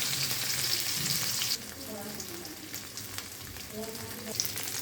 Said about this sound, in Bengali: এখন ছানাটাকে ভালো করে আমরা ভেজে ফেলব